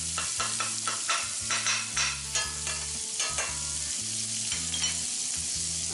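Garlic sizzles in a hot pan with carrots pushed to one side, a steady broadband frying hiss broken by repeated scraping stir strokes, close and fairly loud, with a low hum running underneath.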